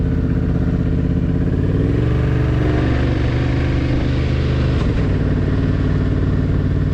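Adventure motorcycle engine running loud and close on a trail ride, a steady throaty rumble that shifts pitch slightly as the throttle changes, with no voices over it.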